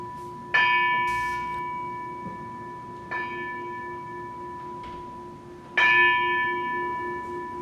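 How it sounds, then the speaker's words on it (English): At the close of Dokusan, a handbell rings and closing bells answer. Three clear metallic strikes sound a few seconds apart, and each rings out and decays slowly over a faint background. "the Roshi will ring the handbell, to which the Jisha will respond with the closing bells"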